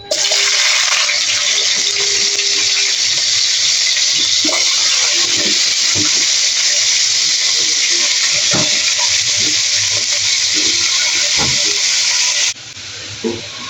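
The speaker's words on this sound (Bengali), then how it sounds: "এখন কেটে রাখা কফির টুকরোগুলো আমি গরম তেলের মধ্যে দিয়ে দিচ্ছি" Salted, cut pieces dropped into hot oil in a wok sizzle loudly and steadily, with faint scraping and clinks underneath, before the frying suddenly drops much quieter near the end.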